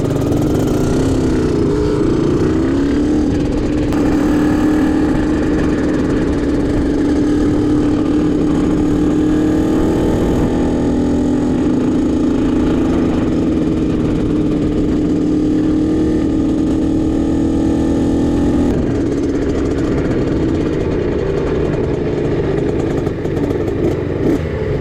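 Small Honda CRF50 supermoto motorcycle engine running slowly around a track, a steady continuous drone with slight rises and falls in pitch, loud and close throughout with no talking.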